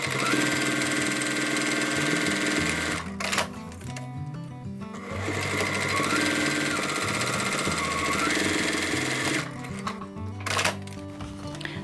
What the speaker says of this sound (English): we're going to sew a few stitches to make it easier to turn this